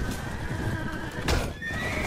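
A horse in the video game Mount and Blade Warband gives a short, loud whinny up close, its pitch wavering before a sharp break, with hoof clatter and battle noise underneath.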